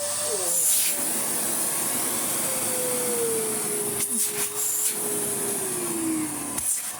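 A restored Karcher VC3600 vacuum cleaner runs steadily and close by with a loud, continuous airflow roar and hiss, its motor tone gliding slowly downward, with a few brief bursts of extra hiss along the way.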